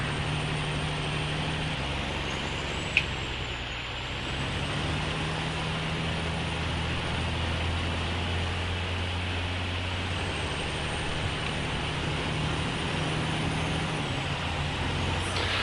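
Western Star truck in the SnowRunner game holds a steady, loud low engine drone that labours and shifts pitch, straining continuously throughout with no talk over it.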